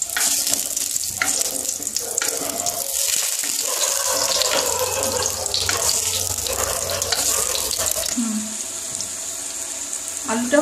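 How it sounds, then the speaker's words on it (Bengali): Quartered potatoes fry in oil for a Bengali Sunday non-veg lunch, giving a steady close hiss and crackle that runs the whole time with no talk over it. "আলুটা ভেজে নেব"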